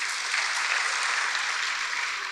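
A church congregation claps for God in a continuous, dense round of applause, loud and even throughout with no speech over it.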